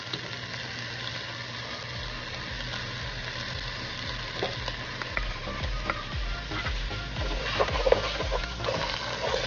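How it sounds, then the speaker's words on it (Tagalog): Pork pata and garlic fry in a pan with a steady oily sizzle, while a utensil stirs and scrapes through them in irregular strokes, moderately close and with no talking. "na-stir na natin yung ating pork pata at lumalabas na yung mantika niya"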